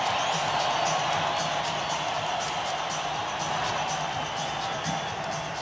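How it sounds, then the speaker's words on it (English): A basketball arena crowd at the Delta Center during Game 6 of the 1998 NBA Finals roars in a continuous, dense wall of noise, with faint speech mixed underneath. "This crowd is so loud."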